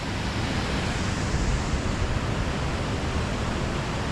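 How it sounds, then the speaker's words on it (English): Waterfalls on a river pour over rocks in a steady, dense, broadband rush that stays constant throughout, with no voices. "get a nice shot across the top of the waterfalls going up the river"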